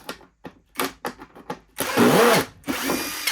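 A power drill backs screws out of a Karcher K2 pressure washer casing in several short whirring bursts, followed by two longer, louder runs of the motor, all close by with no talking.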